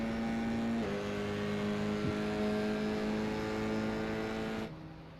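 Formula college race cars on the Finger Lakes circuit, a steady loud engine drone with a sustained high whine that shifts pitch as the cars run down the backstretch through the S's, fading slightly at the end.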